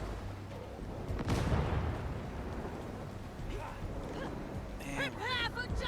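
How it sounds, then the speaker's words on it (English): A grenade blast in Warhammer 40,000: Darktide: one heavy explosion that rolls out into a decaying rumble, followed by voices over the fading noise. "Grenade out!"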